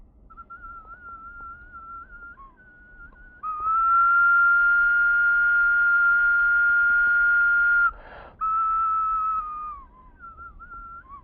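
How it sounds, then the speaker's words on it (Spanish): Replica of an ancestral Pumapungo ceramic whistle bottle giving a pure, steady high tone, soft at first then swelling louder and held for several seconds, briefly broken near the end before resuming and fading. "nos dimos cuenta que teníamos que prestarle mucha atención al diseño del silbato, y logramos casi exactamente el mismo sonido."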